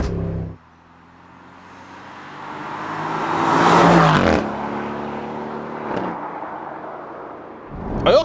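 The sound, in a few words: Aston Martin V8 Vantage exhaust pops and cracks lifting off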